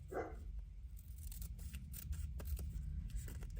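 Scissors trimming grungy paper for a Halloween junk journal folio: a series of soft, quiet crisp snips and rustles, close up, with no one talking.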